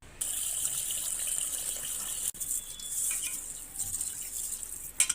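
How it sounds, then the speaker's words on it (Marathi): Moth beans are washed under a running tap. A steady stream of water splashes continuously, with a brief break midway and a few sharper splashes near the end. "इथे आपण मटकी व्यवस्थित धुवून घेतलेली आहे"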